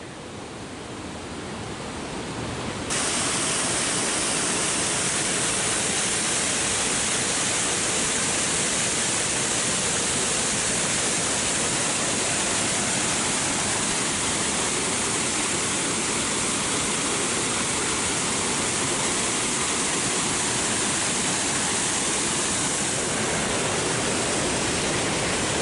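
The river at Tumwater Falls pours over its drop in a steady, loud, close roar of rushing water that holds unbroken throughout, with no voices.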